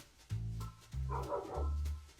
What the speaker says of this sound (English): Don't mind the barking dogs.